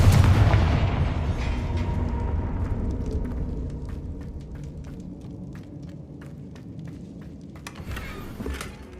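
Fire-spell blasts from Confringo in Hogwarts Legacy: a heavy booming burst at the start rolls off into a rumbling tail, followed by scattered sharp cracks and pops, with another flurry of impacts near the end.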